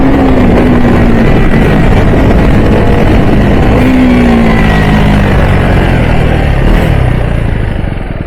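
A Husqvarna 401 motorcycle roars at full throttle while climbing an off-road hill. The engine is loud and close, a constant snarl that holds for the whole stretch and fades only slightly at the end.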